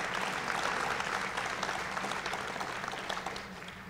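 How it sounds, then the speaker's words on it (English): A conference audience at Skepticon 6 claps steadily for a few seconds, dense applause that slowly tapers off toward the end. "please give her a round of applause"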